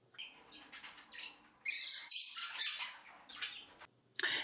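Pet canary in its cage chirping in short bursts of high, bright tweets and squawks, close by with brief quiet gaps between calls.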